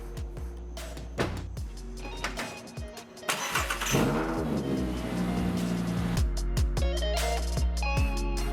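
A Volkswagen Golf with a swapped 02Q manual gearbox cranks and fires up, its engine settling into a steady mid-pitched idle after a run of irregular clicks and knocks from work on the car.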